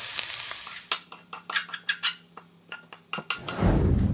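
Mushrooms brown in a pan, a soft sizzle broken by repeated sharp clinks and scrapes of a utensil stirring against the pan, ending in a louder burst of frying.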